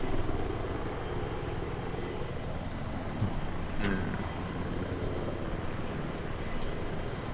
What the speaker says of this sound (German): Ah, der Heli. Wo ist der? Über uns.